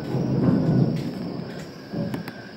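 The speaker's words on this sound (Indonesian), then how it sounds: "itu ada petir itu" Thunder rumbles in the rainy season, a low, heavy roll that builds and fades, with a smaller rumble returning near the end under faint background noise.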